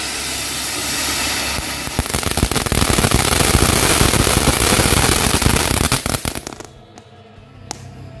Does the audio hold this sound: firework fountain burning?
yes